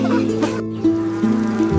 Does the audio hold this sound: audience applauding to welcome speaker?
no